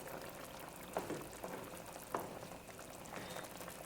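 Curry cod with broad beans simmering in a pot, a steady low bubbling texture with a few soft pops and light clinks, close and fairly quiet, with no talking.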